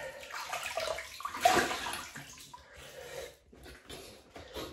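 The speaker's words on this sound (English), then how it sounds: "So we'll just wet the face." Water splashed and cupped against the face at a sink before a shave, a close, irregular wash of splashes and drips with one louder surge partway through, and no talking.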